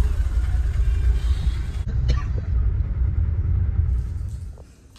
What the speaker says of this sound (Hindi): बहुत लंबा ट्रैफिक लगा हुआ है